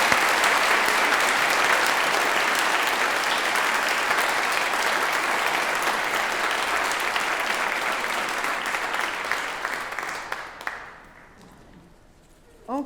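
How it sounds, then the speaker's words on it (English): An audience applauds a speaker and presenter at a gathering: dense, steady clapping from many hands for about ten seconds, then it thins out and dies away, with a brief sound at the very end. "Of applause for our speaker and our presenter."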